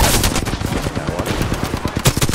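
Rapid bursts of Alternator SMG fire in the battle royale game Apex Legends, dense repeated shots in quick rhythm, loud and close, with no talking over them.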